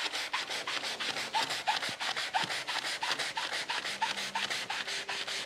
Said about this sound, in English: And now some sanding over that.